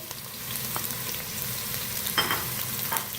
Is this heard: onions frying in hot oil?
yes